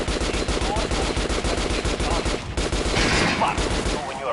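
Dense, continuous automatic gunfire at training dummies on a Metro game shooting range, loud and close, with shots rattling almost without pause and a brief dip before a final stretch.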